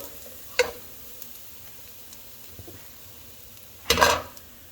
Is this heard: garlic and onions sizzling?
yes